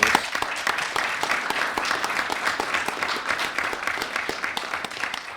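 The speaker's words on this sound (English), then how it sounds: "I want to give all of our first responders a hand of applause for working through this" A room applauds first responders at a Jackson-Madison County, Tennessee commission meeting, with sustained clapping from many hands running evenly for several seconds at moderate volume.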